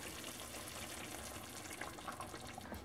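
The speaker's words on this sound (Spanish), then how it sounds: "ahora sí agregamos la salsa para que todo se cocine parejo" Enchilada-style sauce is poured into a pan of frying chicken, making a brief, steady, soft splashing pour that runs unbroken for a few seconds with no voices.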